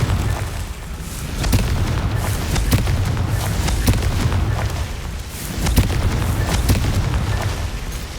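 Repeated fire-spell blasts from Hogwarts Legacy combat, a dense roar of booming explosions with sharp bursts recurring through the whole stretch, loud and continuous with no voices.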